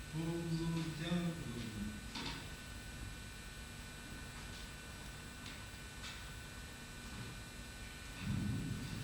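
Thunderstorm sound effect in a stage production of Shakespeare's King Lear, a steady low rumbling roar filling the scene, with voices speaking briefly at the start and again near the end.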